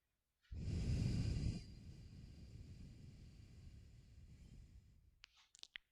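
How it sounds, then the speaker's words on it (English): A slow, deep breath during a core and calisthenics breathing exercise: a loud, full inhale, then a long, softer exhale that fades away, with a few faint clicks at the end. "And breathing in for 5 and breathing out for 5."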